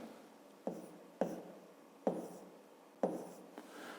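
Pencil or pen strokes write numbers on paper, with five quick, close scratchy bursts coming in an uneven rhythm, each fading into a quiet pause.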